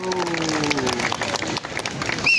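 Crowd applause at a gathering of rally attendees, a dense patter of clapping with a voice trailing off near the start, steady and fairly loud throughout.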